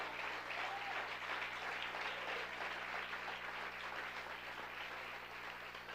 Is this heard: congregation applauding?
yes